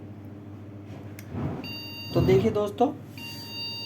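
A steady electronic beep tone, signalling a RAM error, comes from an MSI MS-7647 desktop motherboard during diagnostic testing and holds on under someone talking close by.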